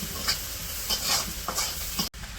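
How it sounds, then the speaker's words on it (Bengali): Onion and green chilies crackle in hot mustard oil in a pan, a close continuous sizzle broken by stirring scrapes and clinks, with a brief drop-out near the end. "তো এই যে পেঁয়াজ কাঁচামরিচ ভাজা নিতেছে"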